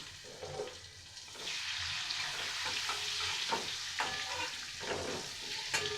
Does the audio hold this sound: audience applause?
no